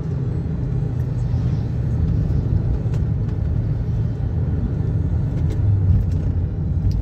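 A Toyota Sienta with a CVT run in its fourth manual-mode gear gives a steady, low road-and-engine rumble from inside the cabin, constant and moderately loud throughout with no talking.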